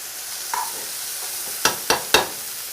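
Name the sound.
onions and vegetables simmering for venison stroganoff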